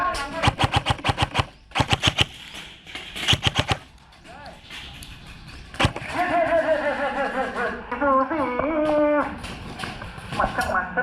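Airsoft guns fire in rapid bursts of sharp cracks, then a sustained clatter of shots continues beneath excited voices and outdoor game noise.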